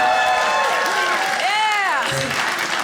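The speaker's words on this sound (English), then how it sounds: "By a round of applause, has anybody in the room ever been single?" Audience at a stand-up comedy show applauds and cheers in a steady, dense wash, with whoops and a voice rising over the crowd noise throughout.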